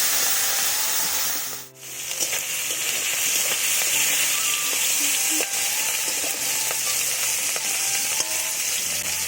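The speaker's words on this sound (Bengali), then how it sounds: "চিংড়ি মাছ এখানে আমি ভালো করে ধুয়ে বেছে ধুয়ে নিয়েছি মাছগুলো আমি ভেজে নেবো" Washed prawns frying in hot oil in a heated wok: a loud, continuous hissing sizzle that runs close and steady throughout, with a brief dip near the start and faint clinks.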